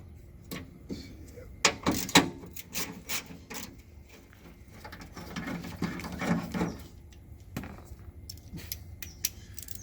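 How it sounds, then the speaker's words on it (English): Bolts on a Chevelle door being loosened for a factory power window conversion, with scattered metallic ratcheting clicks and rubbing scrapes, some in quick bursts, close by and moderately loud, with no talk. "So I'll loosen those bolts."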